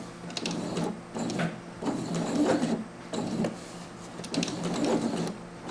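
A sewing machine stitching a decorative zipper hums steadily with rapid rhythmic needle chatter in repeating bursts, close and continuous, with no talking.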